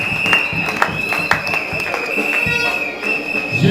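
A church or ceremony audience in Kinshasa claps steadily for a pastor, a dense patter of hands with a few sharper accents, while a voice talks over it.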